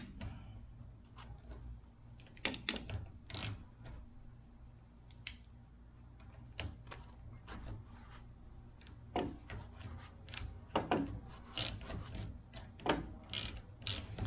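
A fitting on a wooden aircraft rudder is tightened with a ratcheting tool, giving quiet, irregular bursts of clicking over about fourteen seconds, close by, with no talk.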